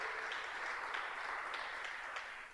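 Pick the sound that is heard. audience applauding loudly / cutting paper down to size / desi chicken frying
audience applauding loudly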